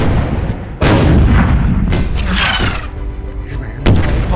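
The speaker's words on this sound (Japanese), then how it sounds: "日本人の炮兵连队开炮" Artillery fire from a Japanese artillery regiment in a war film: heavy booms crash in, one at the start and another near the end, with loud rumbling and debris noise between them.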